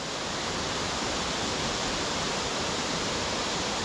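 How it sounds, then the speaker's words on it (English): Waterfall near Askrigg, a dense, steady broadband roar of falling water, loud and constant with no pauses or voices. "So I just keep stopping and looking at the waterfall."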